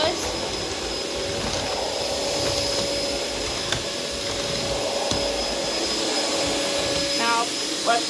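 A Hoover WindTunnel Air bagless canister vacuum cleaner runs continuously nearby, a steady airy whine with a faint high tone and a few small clicks and bumps as it works over the floor.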